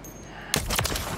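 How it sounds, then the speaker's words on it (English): Rapid burst of SMG gunfire in a video game, a dense run of sharp close shots that starts abruptly after a quiet moment and carries on through to the end. "I was just trying to reload my SMG quick and then kill them."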